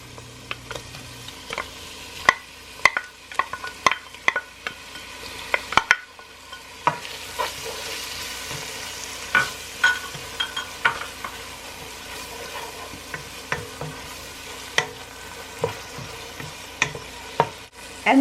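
Salmon frying in a pan with parsley, a steady low sizzle under frequent sharp taps and scrapes of a utensil against the pan, irregular and close.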